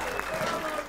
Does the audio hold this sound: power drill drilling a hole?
no